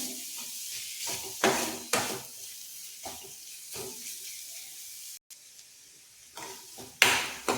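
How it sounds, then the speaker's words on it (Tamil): Masala sautés in a pan over a low flame, giving a soft, steady sizzle broken by occasional scraping stirs of a spatula, close and fairly quiet. "இந்த மசாலாவோட பச்சை வாசனை போகிற வரை கொஞ்சம் நேரம் வச்சு இதிலே வதக்கிக்குவோம்"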